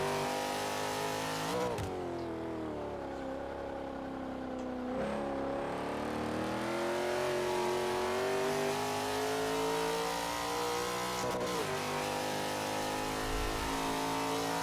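A B-class Cougar race car engine in a racing video game revs continuously, pitch climbing and dropping through gear shifts, loud and steady with an electronic, game-like quality.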